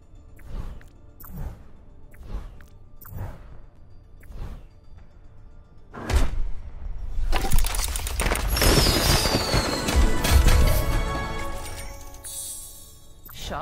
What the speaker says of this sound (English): Ready for the fireworks to begin.